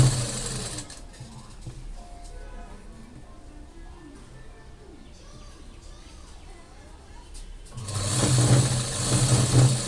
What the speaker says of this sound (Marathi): ब्लाऊज आपल्याला अशी शिलाई करून घ्यायची.